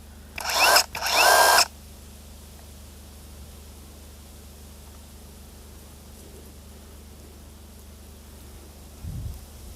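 A Procraft PKA44 cordless mini chainsaw revs in two short bursts, loud and close, then falls silent apart from faint background hum.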